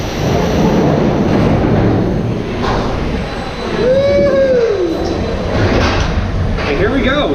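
Kraken Unleashed ride train pulling out of the station at SeaWorld Orlando, a steady loud rumble of wheels and machinery with a rising whine partway through, while people talk over it.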